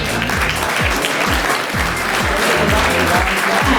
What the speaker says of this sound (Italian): vorrei di fare un grande applauso